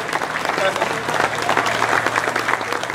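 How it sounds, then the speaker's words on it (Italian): Sustained applause from an audience at an orchestra show in a dance-hall setting, a steady dense wash of clapping at close range that runs through the whole stretch with no break. "Questo applauso mi fa, facciamoglielo sentire ragazzi"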